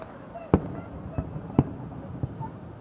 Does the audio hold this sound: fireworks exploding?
yes